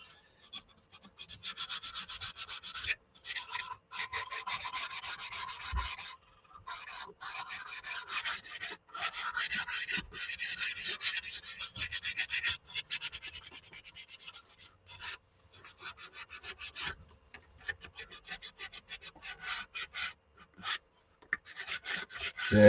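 Long stretches of rough, rasping strokes of wood being sanded by hand, rhythmic back-and-forth rubbing with short pauses between bursts, close and dry.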